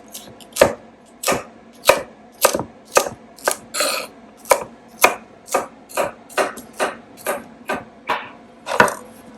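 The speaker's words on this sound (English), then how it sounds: "you need to cut it in half this way and then chop it into" A knife chopping Swiss chard into bite-size pieces on a cutting board, with about fifteen crisp, evenly spaced chops in a steady rhythm, close and clear with no talking.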